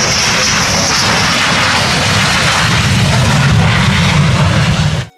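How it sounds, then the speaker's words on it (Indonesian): A toy jet airplane giving off a loud, continuous roaring engine whoosh, close and steady for about five seconds before cutting off abruptly. "Wow, lihat teman-teman, di sini ada pesawat jet."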